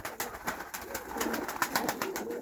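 Close pigeons cooing in repeated soft throaty phrases, overlapping with light wing or movement clatter, with no talk.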